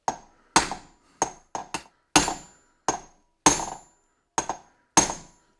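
Sharp metal taps from a driver tool seating a bearing race into a Mercedes W126 front hub, about eleven distinct strikes in an irregular rhythm, some in quick pairs, close and clear with no talk.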